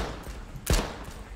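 One sharp gunshot in the H1Z1 battle royale game cracks out clearly over quiet ambient background, loud and abrupt, followed by faint distant shots.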